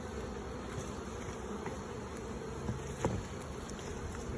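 Honeybees hum steadily around a nucleus hive being installed, a dense, continuous buzzing swarm close by with occasional louder individual bees passing near.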